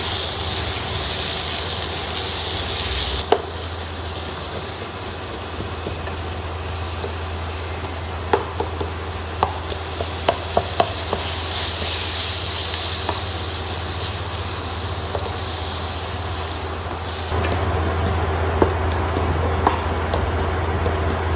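Sliced tomatoes and green chilies frying in a pot for mutton biryani, giving a steady sizzling hiss with occasional small pops throughout.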